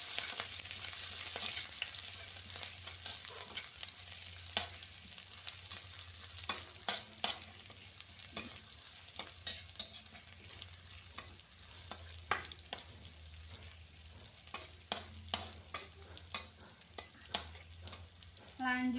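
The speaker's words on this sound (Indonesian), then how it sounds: "Ini bunda tumis dulu bawang merah dan bawang putihnya ya" Shallots and garlic sauté in hot oil with a steady close sizzle, while a spatula clicks and scrapes against the pan in irregular taps throughout.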